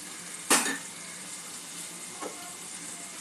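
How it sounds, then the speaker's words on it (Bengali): Water splashed onto vegetables frying in a pan gives a sudden loud sizzling burst, then settles into a steady frying hiss. A second, smaller crackle comes a little later. "অল্প একটু জল দিয়ে দেব, সামান্য একটু জল ছড়িয়ে দেব।"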